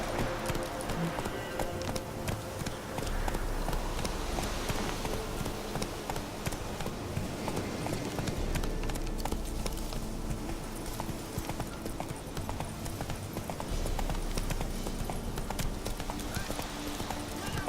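Hooves of Roach, the horse in The Witcher 3, clop steadily in a running rhythm, close and continuous, with a voice talking over them.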